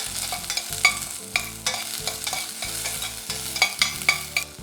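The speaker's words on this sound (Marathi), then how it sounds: "अर्धा कांदा उभा चिरून घेतलेला आहे हलकंसं परतून घ्या" Half an onion, sliced lengthwise, sautéed lightly in a pan with garam masala as a base for chicken soup: steady soft sizzling with repeated scraping stirs and clinks of a spatula over a low musical bed.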